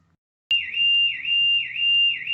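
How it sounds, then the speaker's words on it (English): A Peugeot 308 car alarm suddenly blares after the car is locked with the key, a loud, close electronic tone warbling in a steady repeating cycle with no voices. "if we use the key to lock it, the alarm goes off."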